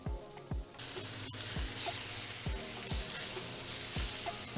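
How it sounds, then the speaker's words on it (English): Chopped onions sizzle steadily in hot olive oil in a pan, a dense continuous hiss punctuated by regular low knocks of stirring, with no talking. "So I have a little olive oil, some chopped up onions, so we can fry up our onions."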